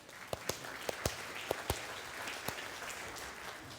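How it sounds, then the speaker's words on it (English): Audience applause at an Indigenous speaker's talk as a volunteer comes up, a thin spread of clapping with several sharp, distinct individual claps standing out near the mic. "Let's give Chris a round of applause."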